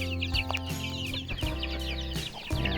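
Several chickens and young hatched chicks cluck and chatter together in a busy, continuous flock on a Philippine farm, with short overlapping calls and a low background hum.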